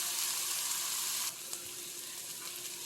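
Chicken pieces seasoned with chilli powder and salt sizzle steadily as they sauté in a pan, a continuous close frying hiss that drops slightly in level partway through, with a faint clink near the middle.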